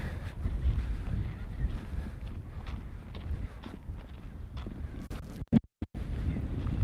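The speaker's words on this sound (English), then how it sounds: "It's a little bit windy here." Outdoors, wind buffets the microphone in a low, gusty rumble that swells and eases, with a couple of abrupt dropouts near the end. No one speaks.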